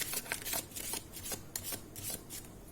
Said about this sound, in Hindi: Let me shuffle the cards please.